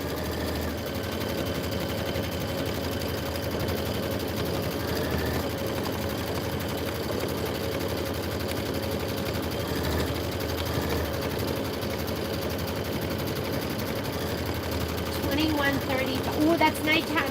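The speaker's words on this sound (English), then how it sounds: "now it's going to do the quilting stitch down all of these" A sewing machine runs a fast quilting stitch on a Kimberbell block, a steady rapid whir continuing throughout, close and moderately loud, with faint talk at times.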